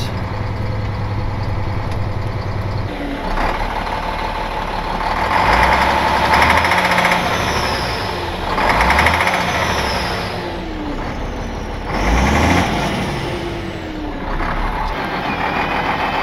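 A five-cylinder tow truck engine idles nearby with a loud, low rumble that carries on throughout, swelling in a few brief revs before settling back, with no voices over it.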